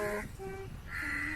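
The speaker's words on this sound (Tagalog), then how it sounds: "ang daming uwak dito, guys." A few crows caw in quick succession, fairly close, with outdoor background noise near the sea in Malaysia.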